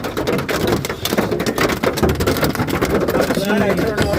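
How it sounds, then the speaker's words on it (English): Wind-driven hail pelts down during a supercell storm near Milton, Ontario, a dense, steady clatter of impacts and rushing wind that fills the whole scene close by, with people talking over it. "This is crazy. We're getting wind-driven hail."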